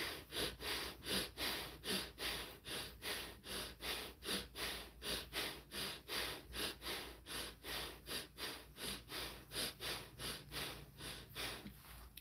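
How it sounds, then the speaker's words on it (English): Rapid rhythmic breathing through the nostrils with the mouth closed, a steady series of close, airy sniffing inhales and exhales, about two per second, with no talking. "let's go ahead and do some nasal breathing"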